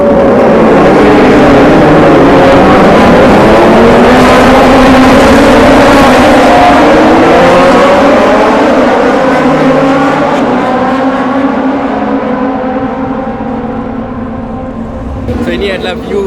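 Moto2 racing motorcycles pass along a race track, their engines whining and sweeping in pitch as they rev and fly by, loud and continuous, with voices talking over the engine noise.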